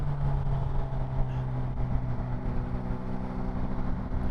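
A 600cc sport motorcycle engine runs on a freeway in fifth gear, a steady, dense drone with a sustained tone, mixed with road and wind rush, close and loud throughout.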